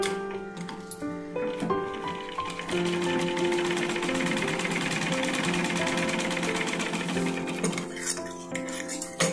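A sewing machine runs continuously with a fast, even mechanical rattle while stitching the front darts of a blouse, close and steady throughout.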